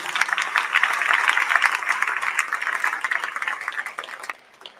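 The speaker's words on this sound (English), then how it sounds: "Let's give a big round of applause to the parents." At a high school signing day, an audience breaks into steady clapping and applause for the parents, moderately loud, tapering off at the end.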